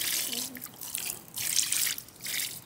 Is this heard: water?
yes